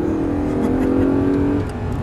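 An Audi R8 on the Dreux track pulls hard with a loud, steady engine drone that holds for about a second and a half before easing off.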